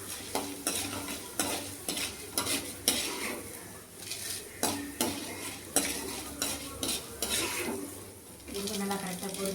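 Urad dal and chana dal frying in oil in a pan while a spoon stirs them, with repeated metallic scrapes and clinks over a continuous soft sizzle, close and moderately loud.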